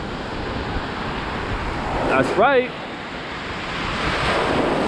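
Atlantic Ocean surf at Daytona Beach, Florida, a steady broad wash of waves with wind buffeting the microphone, briefly interrupted by a short spoken phrase.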